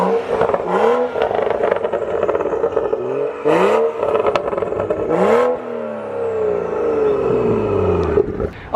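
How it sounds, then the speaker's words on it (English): A BMW M235i with an N55 engine, VRSF downpipe and M Performance exhaust revs hard several times, each rise and fall of the engine note loud and close, ending in a long descending wind-down. "that thing sounds freaking amazing"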